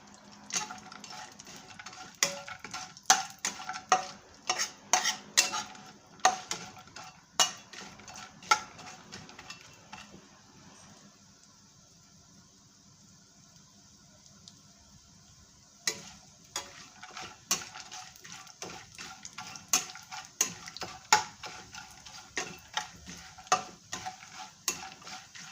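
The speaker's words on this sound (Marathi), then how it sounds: "बदाम आपल्याला तुपावरती थोडेसे परतून घ्यायचे।" Almonds sautéing in ghee in a pan while being stirred, giving repeated sharp scraping and clinking strokes of a spoon over a low sizzle, with a quieter stretch midway before the stirring resumes.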